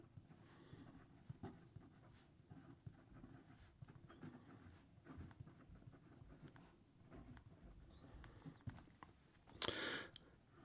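Fountain pen with a medium JoWo nib writing on paper, very faint soft scratching strokes in an irregular rhythm, close and quiet, ending with a brief louder rustle.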